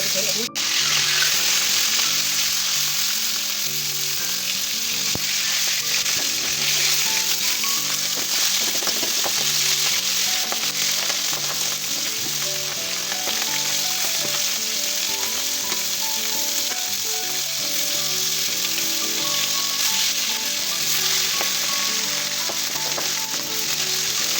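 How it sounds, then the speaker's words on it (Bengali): Continuous loud sizzling and crackling of small boal fish frying in oil, steady throughout, with occasional soft stirring noises and a faint tonal hum underneath. "মাছগুলো আমি হালকা করে ভেজে নিব"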